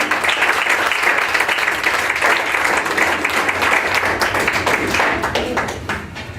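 A church congregation breaks into loud, sustained applause after a prayer, dense clapping filling the space for several seconds before tapering off slightly at the end.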